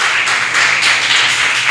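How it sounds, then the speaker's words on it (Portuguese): Church congregation at a Sunday service applauding together, a dense, loud and continuous wash of many hands clapping with slight swells, heard close with no voices over it. "vamos aplaudir o Senhor Jesus"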